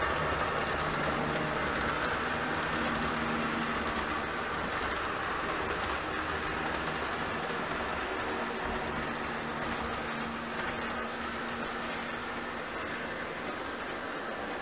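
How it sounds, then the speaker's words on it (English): An empty grain freight train rolls slowly past heading east, a steady broad rumble of wagons and wheels on rail holding level throughout, with no voices. "First train I saw was a pretty slow moving grain train."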